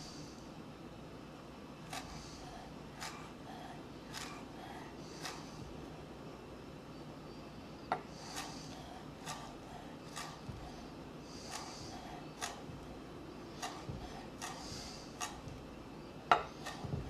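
A knife slicing chive flowers thin on a board at home, giving soft, evenly spaced cuts about once a second in a quiet kitchen, with no talk.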